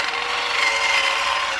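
Small battery-powered electric salt and pepper grinders run empty in a steady, continuous whirring buzz, close and fairly loud, with no talking.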